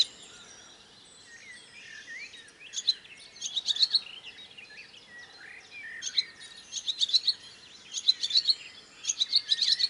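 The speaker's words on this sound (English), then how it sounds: "And the birds have been up for a while." Dawn birdsong just past four in the morning: several birds chirp and tweet in quick bursts, growing busier and more overlapping toward the end, with no voices.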